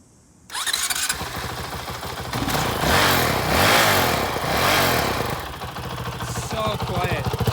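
A Honda CRF450L dirt bike engine cranks over and fires up, then settles into a steady, fairly quiet idle with slight revving, close by, with people chatting over it.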